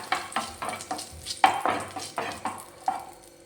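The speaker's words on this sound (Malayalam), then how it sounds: "ബട്ടർ ഒന്ന് മെൽറ്റായി വന്നാൽ നമുക്കതിലേക്കൊരു ആരേഴ് കിസ്മിസ് ചേർത്ത് കൊടുക്കാം" Raisins sizzle in melted butter in a pan as they are stirred, a close frying hiss punctuated by regular scraping strokes of a spoon, roughly two per second.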